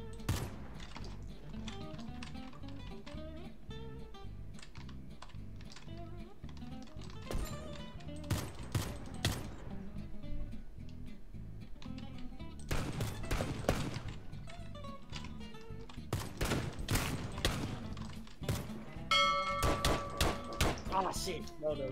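Scattered gunshots and rapid bursts from Mr. Crayfish's Gun Mod in Minecraft pop throughout, clustering into dense volleys at times, while people talk over the shooting.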